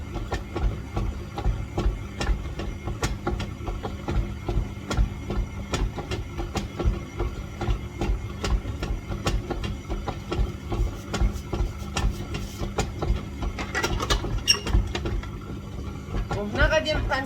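A kitchen machine churns dry ingredients for whole wheat bread dough with a steady mechanical whir and rattle, close and continuous throughout, while a voice talks over it now and then.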